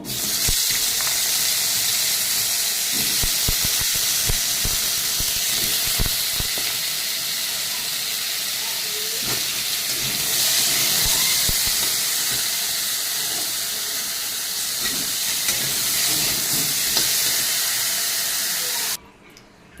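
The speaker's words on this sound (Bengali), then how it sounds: "এর ভিতরে আমি আলু কটা ভেজে নেব।" Potatoes fry in oil, making a loud, continuous broadband hiss that holds steady for the whole stretch and then cuts off abruptly near the end, with no voices.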